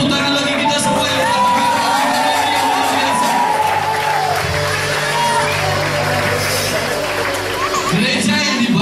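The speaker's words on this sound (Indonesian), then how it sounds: "Tepuk tangan bagi kita semua yang" A church congregation at an evening worship service cheers and whoops loudly as a dense crowd roar, while a voice speaks over the noise.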